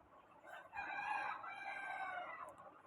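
A Buff Polish Cap rooster crows loudly in a long, drawn-out call, with Buff Polish Cap chickens clucking faintly in the background.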